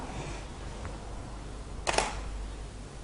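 Camera shutter firing with flash on a zoom camera, a single sharp quick click near the middle over faint background hiss, close and brief.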